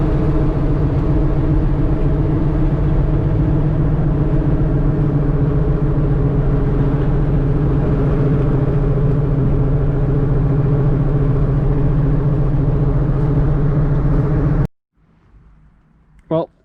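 A lifted OBS Ford truck with a 9-inch lift, driving with a shaking hop, gives a steady loud low engine and road rumble that runs continuously, then cuts out abruptly near the end, leaving quiet cab noise and a brief bump.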